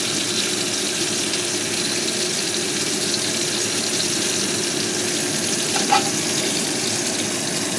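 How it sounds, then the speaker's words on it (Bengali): Broad, even frying hiss of round bitter gourd slices in hot oil, steady and close throughout, with one faint clink near the end. "উচ্ছে ভাজাগুলো একটু লাল লাল করে ভাজবো, গোল গোল করে কেটেছি"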